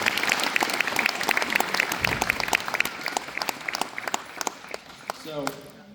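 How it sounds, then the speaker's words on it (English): An audience at a school winter sports awards ceremony applauds a team with dense, loud clapping that holds steady, then thins and fades toward the end. "So I want to give them a round of applause real fast for the team."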